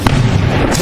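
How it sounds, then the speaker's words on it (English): A single loud gunshot from a stray bullet in a film scene, a heavy booming crack that fills the short moment up close, with no talk. "They are startled when a stray bullet comes dangerously close to their post."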